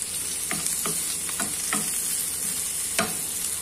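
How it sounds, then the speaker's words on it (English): Noodles and vegetables with sesame oil sizzle in a pan while a utensil stirs them, giving a steady bright hiss cut by a series of scraping, clacking strokes about every half second, close and clear. "Then mix well."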